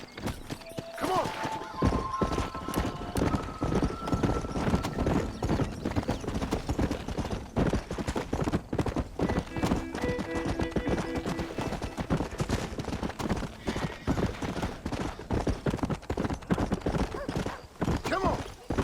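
Horse hooves clip-clopping with neighs in the video game Red Dead Redemption, a dense, steady trot running under game voices and background sound.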